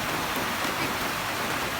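Steady rain pours in a dense, unbroken hiss, loud and close throughout, with no voices.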